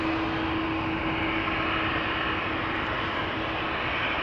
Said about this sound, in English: Lining up on that threshold as we speak is KLM Flight 1793 going to Munich,